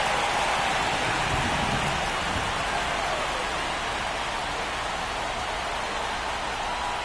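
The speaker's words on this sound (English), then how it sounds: "the field's not going to be able to hold off if the rain gets any worse than this" Heavy rain pours steadily onto a baseball field during an MLB game, a dense, continuous hiss that stays loud and even throughout with no voices over it.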